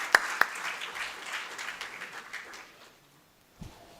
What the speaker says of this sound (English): Huge applause for you.